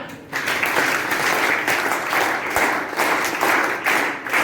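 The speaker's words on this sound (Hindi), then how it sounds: "एक बार सक्षम भैया के लिए तालियां।" A classroom audience claps for a student named Saksham, a steady mass of many hands with dense, even patter that swells slightly and holds at moderate loudness, with no voices over it.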